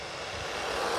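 A Monster Buffalo 1/16 scale 4WD RC truck runs at full throttle outdoors, its electric motor giving a steady, rising high-pitched whine that holds loud and continuous over about a second.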